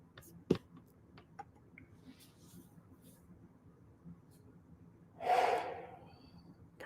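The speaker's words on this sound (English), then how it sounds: "Beautiful breath in again." Deep in-breath taken during a guided meditation: a single soft, airy inhale swells for about half a second near the end, following a quiet stretch with faint clicks and low room noise.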